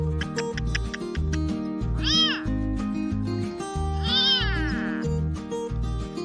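A small cat meows a few times, high and close, over a loud repetitive music track.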